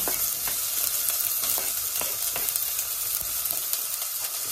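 Garlic and onions frying in a hot pan give a dense, constant sizzle close by, with light stirring clicks scattered through; no voices.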